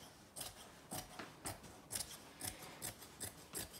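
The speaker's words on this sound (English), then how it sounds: "a really good pair of sharp dressmaking scissors do help, particularly if you're working with fabric like denim" Sharp dressmaking scissors cutting denim fabric, about eight crisp snipping strokes in a steady rhythm, close and fairly quiet with no speech.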